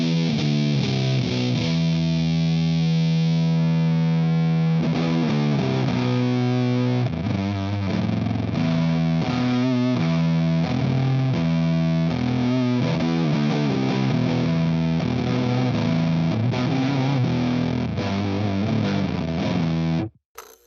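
Electric guitar through an Electro-Harmonix Deluxe Big Muff Pi fuzz pedal with mids cut, thick sustained distorted chords and riffs played continuously and loud, alone without any voice.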